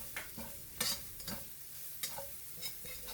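Garlic and ginger sautéing in a pan, a quiet close sizzle broken by intermittent scraping stirs every half second or so, with no talk.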